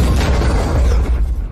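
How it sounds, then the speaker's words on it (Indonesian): A tank gun firing and its round striking an enemy German tank in a war film battle, heard as a loud, dense booming blast with rumbling low end that fills the whole moment, no talk over it. "Polchok yang berhasil mengambil alih tank Jerman melepaskan tembakan tepat mengenai tank itu"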